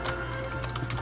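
Quick keyboard typing, a short burst of light clicking keystrokes over a low steady hum.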